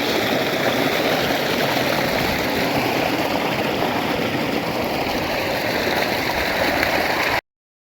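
Irrigation water flowing steadily along a channel into a wheat field, a close, loud and constant rushing gurgle with no pauses, cutting off abruptly at the end.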